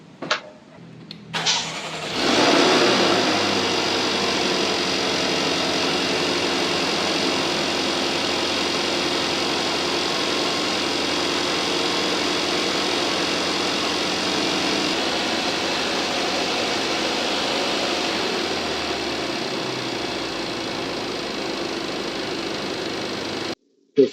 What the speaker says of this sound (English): All right, let's go ahead and start the car.